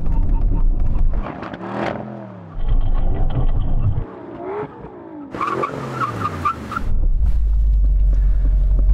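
Aston Martin cars in a brake test during a Valkyrie, Vanquish and V12 Vantage drag race: loud engines rev and accelerate hard with rising gear sweeps, then tyres squeal under heavy braking before a low idle rumble settles in.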